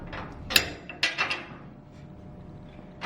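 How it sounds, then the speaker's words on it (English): A wrench tightens the tailstock on a Powermatic lathe, giving a few short, close metallic clicks and scrapes with quiet pauses between them. "And then use the wrench here."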